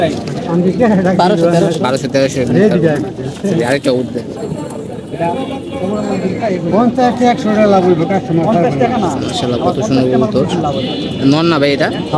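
Pigeons coo in the background while people talk continuously and loudly nearby, at the Tongi pigeon market in Bangladesh, where silver and red pigeons are sold.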